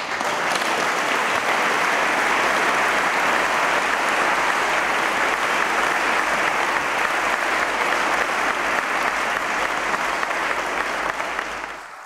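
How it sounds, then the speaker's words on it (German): Sustained, loud applause from a large audience at a Pride (CSD) reception speech, steady dense clapping throughout before tapering slightly at the end. "Applaus"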